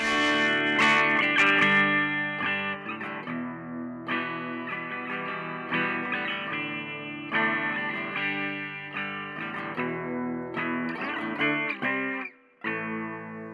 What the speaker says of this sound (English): We're going to go clean, and we're going to start with the bridge pickup